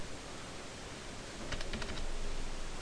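Quick keystrokes on a computer keyboard as data is entered, making a short soft burst of taps over a steady hiss of background noise.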